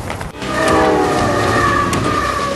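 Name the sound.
passenger train T-27 Beijing to Lhasa, Tibetan Plateau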